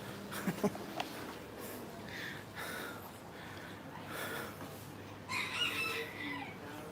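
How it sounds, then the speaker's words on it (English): Chickens cluck and a rooster crows a few times at a moderate distance in the Klongtoey slums of Bangkok, with scattered outdoor noise between calls. "You hear the chickens."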